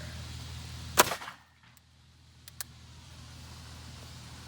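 A single sharp gunshot as a Fort Scott Munitions TUI 115-grain round is fired into car parts, with a brief ringing tail and a couple of faint clicks and rattles after it.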